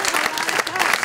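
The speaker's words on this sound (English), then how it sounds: "Let's have a round of applause for our panelists." Audience applause for panelists at a talk, a short, dense burst of many hands clapping with chatter mixed in.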